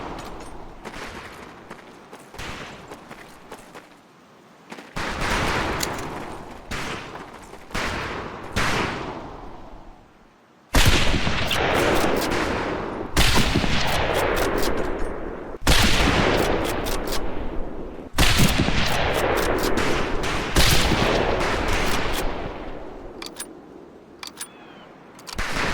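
Scoped rifles fire at long-range targets in Medal of Honor: Pacific Assault. Sharp, loud shots crack out at irregular intervals, some close together, each leaving a brief echoing tail.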